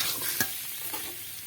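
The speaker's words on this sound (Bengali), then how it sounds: "আলুগুলো দিয়ে একটু ভালো করে এইভাবে নাড়িয়ে চাড়িয়ে নিতে হবে আলুটা কিন্তু কষিয়ে ভাজা ভাজা করা হয়ে গেছে" Fried potatoes are turned in a hot pan for a steamed egg dish, a light scrape of the spoon and a soft sizzle, with one sharper clink near the start and quieter stirring after.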